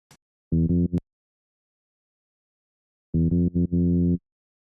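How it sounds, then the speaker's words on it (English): Two short bursts of a buzzy, harmonically rich synth with phase distortion, a quick stuttering run of notes and then another lasting about a second, with silence between. "Phase distortion, what does that sound like?"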